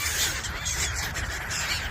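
A large flock of birds gathers to be fed pandesal bread outdoors, a dense mix of squawks and calls overlapping continuously at moderate volume, with no talk.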